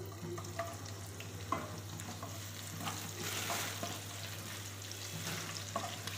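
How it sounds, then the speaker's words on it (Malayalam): Sliced onions fry in hot oil in a pan while being stirred for prawn biryani, a close, soft sizzle with intermittent scraping and clicking of the spoon, without any talk. "നമുക്ക് ഇതിലോട്ട് ഇത്തിരി സവാള ഇട്ട് കൊടുക്കാം."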